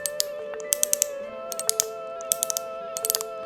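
Yellow plastic MiniCandy balisong trainer flipping, a quick run of sharp, close clicks and latch snaps in irregular bursts, heard alone with no talk.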